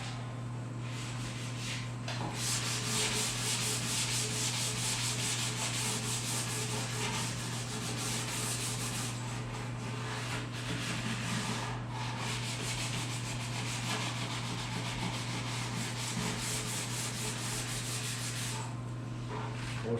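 Sanding wood cabinets during a laundry room and pantry remodel: continuous close scratchy rubbing of sandpaper over wood, steady and loud for the whole stretch, with brief pauses in the strokes over a constant low background hum.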